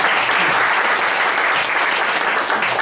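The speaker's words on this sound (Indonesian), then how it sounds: "Tepuk tangan Indonesia" Steady applause from a sizable crowd, a continuous wash of clapping that holds at an even, fairly loud level from start to finish.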